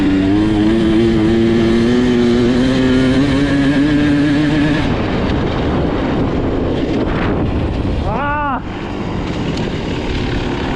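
An enduro motorcycle ridden flat out at sprint enduro training: a loud engine whine climbing in pitch, then a rough rush of wind and dirt, followed by a quick rev rise and fall, all up close.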